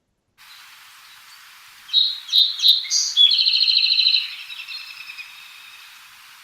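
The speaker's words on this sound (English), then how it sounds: "Yeah, song sparrow." A song sparrow sings alone, opening with several crisp separated notes, then a fast buzzy trill that trails into softer chatter; a second bird is faint in the background.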